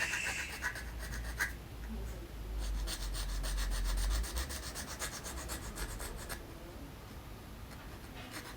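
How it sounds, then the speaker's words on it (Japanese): Steady rasping of a file across a small recess on a Top Gun plastic model jet, close and continuous with short strokes, a few sharper scrapes early on. "このくぼみもねちょっと怪しいんで、ちょっと削ってやります"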